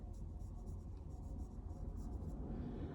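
A pencil sketches lightly on paper with soft, continuous scratchy strokes in quick repeated bursts, close and quiet, over a low room rumble.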